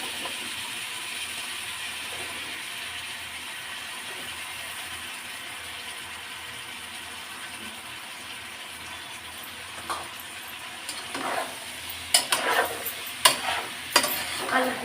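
Chicken and potatoes sautéed in a pan, with a steady frying hiss throughout and scraping stir strokes that grow louder and more frequent toward the end.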